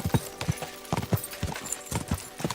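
Horse hooves clip-clop at a steady walking rhythm on the ground in the video game Kingdom Come Deliverance 2, close and clear, with a faint snort near the middle.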